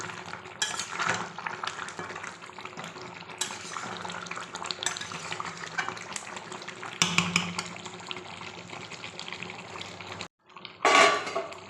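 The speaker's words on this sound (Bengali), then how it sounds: "তো কষানো হচ্ছে এখন একটু বাকি আছে এই যে জলগুলো সব টেনে যাবে আর তেলও ভালোই ছেড়ে দিয়েছে" Hand-ground spices being stirred and fried in oil in an uncovered pan, a soft continuous sizzle with clinks and scrapes of a spoon against the pan, ending in a brief clatter.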